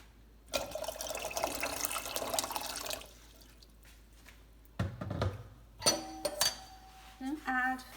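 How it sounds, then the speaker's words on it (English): Cold water pours from a kitchen tap into a pot of eggs, a steady splashing fill for a few seconds, followed by clanks of the pot and further short bursts of running water. "Add cold water to cover all the eggs."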